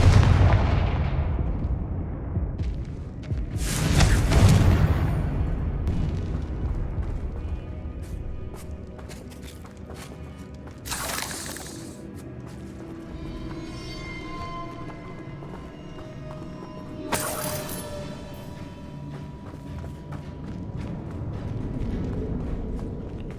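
Loud explosive blasts from Bombarda and Confringo spells cast in Hogwarts Legacy, with booming impacts near the start and sharp bursts later, over a rumbling game soundscape.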